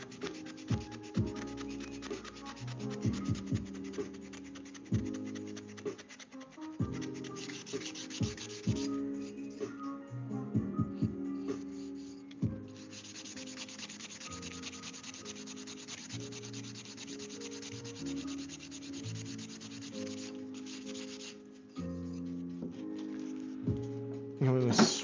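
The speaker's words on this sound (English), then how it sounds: "I'm gonna switch into some lighter sandpaper" Sandpaper worked by hand across a wooden cutting board gives a continuous close rasping scrub of steady back-and-forth strokes that carries on throughout with only brief changes in pressure.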